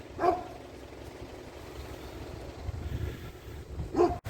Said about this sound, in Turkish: Bir sürü av köpeği.